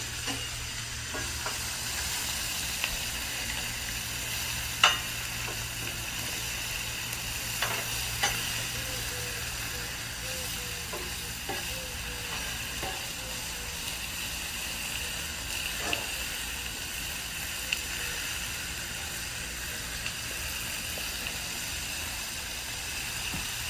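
Pork tenderloin sizzles on a Blackstone griddle, a steady bright hiss and crackle filling the whole stretch, with occasional small pops and faint clicks of a spatula, no voices.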